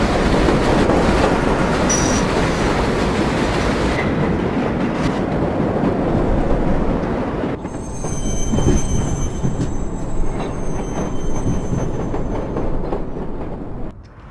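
A New York Flushing Line 7 subway train in the World of Subways 4 video game rumbles loudly and steadily for over fourteen seconds, with wheel squeal and clatter that shift partway through as it runs into the depot.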